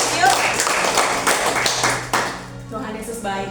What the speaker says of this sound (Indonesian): Kita beri tepuk tangan buat Tuhan Yesus yuk.